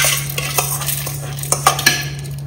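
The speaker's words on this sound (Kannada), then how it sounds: "ಈಗ ಮಸಾಲೆ ಕಂಪ್ಲೀಟ್ ತಣ್ಣಗಾದ ನಂತರ ಒಂದು ಮಿಕ್ಸಿ ಜಾರಿಗೆ ಹಾಕ್ತಾ ಇದ್ದೇನೆ." Cooled masala for badane koddel, a spiced eggplant curry, being spooned into a mixie jar, with clinking metal-on-steel utensil taps and scrapes in a close, quiet kitchen.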